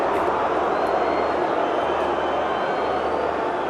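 A crowd at an India v New Zealand Test cricket match in Pune cheers and applauds as a steady, broad roar with no breaks, heard at a distance.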